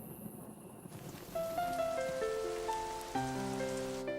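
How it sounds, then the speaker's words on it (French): Steady rain patters on surfaces outdoors at dusk, a soft continuous hiss that runs throughout under a gentle melody of sustained musical tones. "j'ai l'impression qu'il va pleuvoir"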